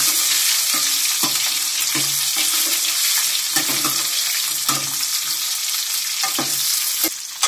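Raw mango curry is stirred in a frying pan, a utensil scraping in repeated strokes over a steady, loud sizzle that fills the whole stretch.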